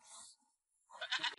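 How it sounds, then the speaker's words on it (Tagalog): A sheep in a village setting gives two short bleats separated by a brief silence, the second rougher and louder, heard close and alone with no voices over it. "May tupa."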